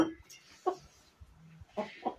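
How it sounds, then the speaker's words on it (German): A hen clucks in a few short, fairly close bursts with quiet gaps between them, and a faint low hum sits under the calls. "Du bist eine sehr gesprächige Henne,"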